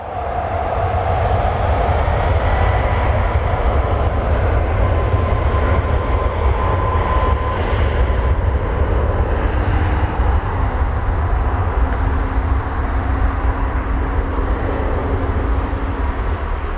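A jet roaring down runway 23 at Toronto Pearson on takeoff, a loud, sustained rumble with broad engine noise that holds steady throughout.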